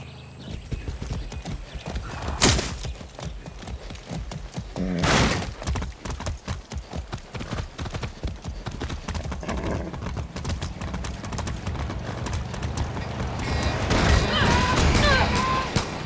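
Rapid hoofbeats of a galloping horse in the video game Far Cry 6 pound steadily, with a loud whinny partway through and more neighing near the end, under faint background voices.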